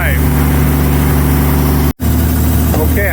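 A 1933 Auburn V12 boat tail Speedster, newly started after 58 years in a museum and with a leaky passenger-side exhaust pipe, idles with a loud, steady, even rumble close by, broken only by one brief dropout.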